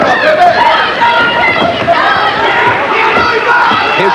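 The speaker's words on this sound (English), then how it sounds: "Crowd continues to be very vocal in support of Lomeli on the left of your screen on the red front." A boxing crowd roars and shouts in support of fighter Lomeli, a dense, loud, continuous wall of cheering voices and babble filling the whole moment.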